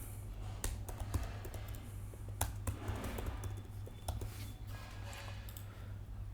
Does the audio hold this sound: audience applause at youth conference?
no